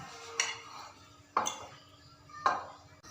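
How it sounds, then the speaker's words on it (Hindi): Boiled potatoes mashed with a fork in a dish, heard as three sharp scraping, clinking strokes against the bowl spaced about a second apart, close and fairly quiet. "ये बहुत अच्छे तरीके से ये हमने कांटे के साथ इसको मैश किया है"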